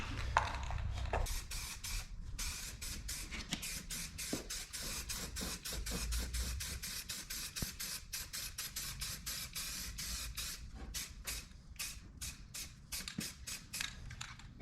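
Many short bursts of spray primer and white Krylon paint hiss in quick succession on a Dodge D250 Cummins truck door, each lasting a moment before a brief pause, close and fairly loud.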